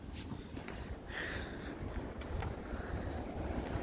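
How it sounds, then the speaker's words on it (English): Strong blizzard wind blows and drifts snow outdoors in South Dakota, a dense roaring rush buffeting the microphone steadily for a few seconds, loud and close, with no talk. "This is crazy wind."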